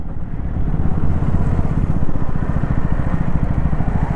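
A 2025 KTM Duke 250 with a quick shifter runs with a loud, close, steady engine drone and a throbbing low pulse, with no clear break where a gear change would fall.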